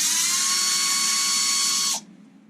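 A power drill spins at high speed to remove a center bolt on an Arrma Vendetta RC car, giving a loud, steady high-pitched whine that cuts off abruptly near the end, leaving a faint residual hiss.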